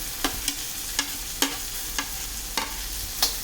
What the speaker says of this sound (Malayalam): നമുക്ക് ഇനി കുറച്ച് മുറിച്ച് വെച്ചിരിക്കുന്ന തക്കാളി അതിലേക്കിടാം.